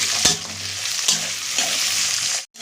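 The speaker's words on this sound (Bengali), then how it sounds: "পেঁয়াজ ক্যাপসিকাম আর টমেটোটা একসাথে দিয়ে দিলাম দিয়ে ভালো করে ভেজে নিই" Onion, capsicum and tomato fry together in a pan for a cauliflower pakora chilli, giving a steady loud sizzle with a few sharp stirring scrapes near the start and middle and a sudden cutoff at the end.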